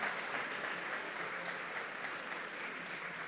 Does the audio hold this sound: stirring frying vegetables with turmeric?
no